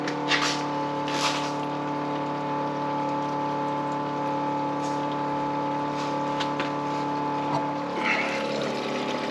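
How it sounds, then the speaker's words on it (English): An electric fuel pump running on a 1959 Volkswagen Beetle convertible gives a steady, close mechanical hum with a few faint knocks, continuing almost unchanged throughout. "nice clean advantage of electric fuel pump"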